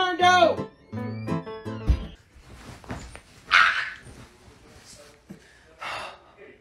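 A dog barks and huffs in a few short loud bursts, with snorting and breathy sounds between them. People talk over and around the barks.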